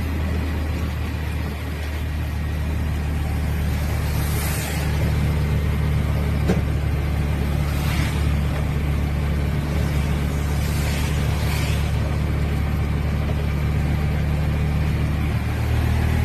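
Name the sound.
road traffic during heavy rain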